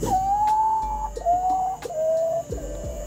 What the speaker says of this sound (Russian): жуткие крики козадоев по ночам сводят с ума местных жителей